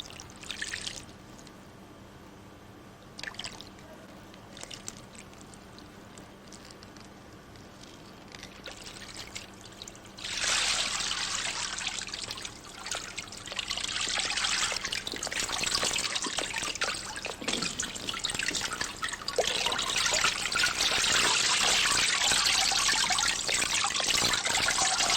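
Glycol solution trickles and pours over waterlogged wooden ship timbers being conserved, a soft steady splashing that swells louder and fuller partway through and keeps running.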